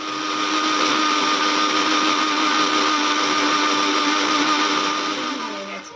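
A kitchen mixer grinder blends chopped onion into paste, a loud, continuous motor whine with a steady grinding texture, running unbroken and easing off only at the very end.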